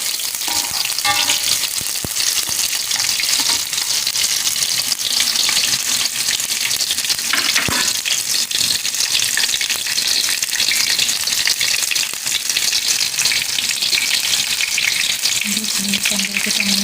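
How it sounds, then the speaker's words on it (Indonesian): Ground spice paste sautés in hot oil for beef bone soup, a loud steady sizzle with bursts of stirring and scraping, close up and continuous with no talking. "kita menumis dengan menghaluskan bumbu-bumbu yang sudah kita persiapkan tadi"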